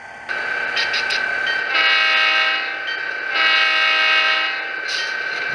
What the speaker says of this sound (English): The horn's a little bit loud.